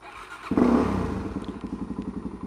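A motorcycle that has just been made quieter catches with a thump and settles into a close, steady, rhythmic idle that thuds on evenly for a couple of seconds.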